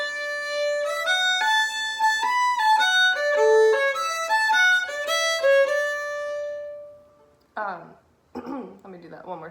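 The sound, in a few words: fiddle playing last four bars of Pig Ankle Rag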